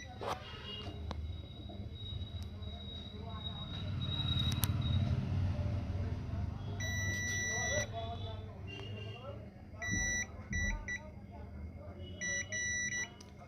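Multimeter continuity buzzer tested on a pin of an LED TV panel during repair, giving short high electronic beeps in several bursts late on, over a low steady hum and someone talking.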